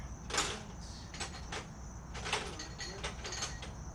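Rummaging through a cluttered wrench drawer in a home garage: quiet, continuous clinks, scrapes and metallic rattles of tools being shuffled, with no talk.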